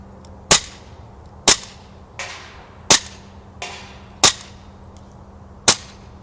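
SIG Sauer P226 BB handgun firing at a distant target, seven sharp snapping shots at a steady pace about one per second, loud and close against a low hum, no voices.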